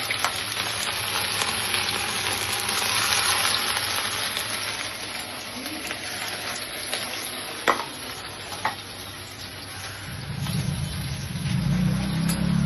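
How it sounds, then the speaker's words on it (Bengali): Palm fruit pitha dropped into hot oil give off a steady, continuous sizzle and bubbling, with a few brief clinks. A louder, lower frying burst swells near the end as more batter goes in. No one speaks. "তেল আগেই গরম হয়ে গেছে, আমি এর ভিতরে একটা একটা করে ছেড়ে দিচ্ছি।"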